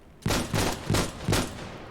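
Four heavy bursts of gunfire and explosions from a tactical shooter video game, spaced at roughly even intervals and punching loudly through a low, continuous background rumble.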